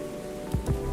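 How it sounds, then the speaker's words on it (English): Rain pours in the video game Coffee Talk Episode 2, a steady soft hiss with two brief low thumps partway through. "It's pouring rain again."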